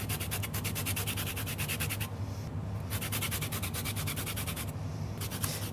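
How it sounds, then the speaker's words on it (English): A lemon peel is rubbed across the fine side of a grater in quick, rhythmic rasping strokes, close and fairly soft, with a short pause between two bursts of grating. "I like to grate it on the fine side of my grater"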